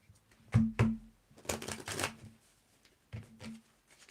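Tarot cards are shuffled in a few short riffling bursts, close and crisp, with pauses between them and no talking.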